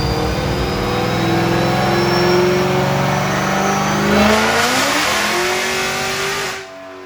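Supercharged 2012 Dodge Challenger SRT Yellow Jacket Edition with a big Whipple blower, ported heads and long-tube headers, revving hard on a dyno, one loud continuous pull with steadily climbing pitch that cuts off abruptly near the end.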